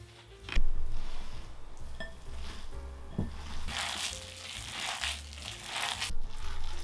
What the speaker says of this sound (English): Add ground pork, chopped vegetables, and seasonings. Knead well.